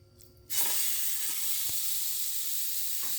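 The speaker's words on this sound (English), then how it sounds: "we're going to cook this chicken over medium heat" After a brief quiet start, a loud sizzle of chicken frying in a pan over medium heat erupts and holds steady, with a few soft clicks.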